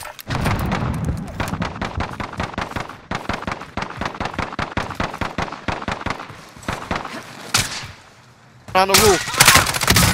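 Rapid automatic gunfire in Call of Duty: Modern Warfare, dense rhythmic bursts of shots with brief gaps, ending in a louder burst, while a player speaks briefly over it.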